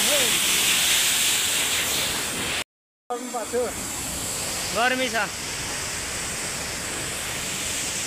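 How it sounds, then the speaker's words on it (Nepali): Dhiplung waterfall in Khotang roars as a dense, steady rush of falling water close by, briefly cut out for a moment, while a voice speaks briefly over the constant spray. "ल धिप्लुङ झरना हो"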